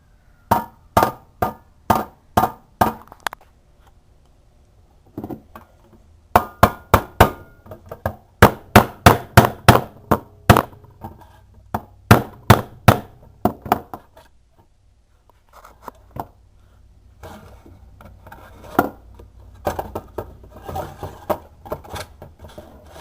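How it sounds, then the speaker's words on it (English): A small hammer tapping a metal corner flap on a 1960s Mattel Creepy Crawlers Thingmaker cooker, sharp close metallic strikes in rapid bursts separated by short pauses, softer taps toward the end. "We drive it down with a small hammer right behind the little red metal flap in the corner"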